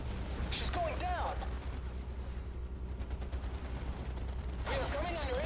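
Enemy gunfire in Battlestations: Midway, during a naval defence of the Philippines, rumbles as a steady low barrage of distant shots under engine drone, with whistling and voice-like sweeps at the start and end.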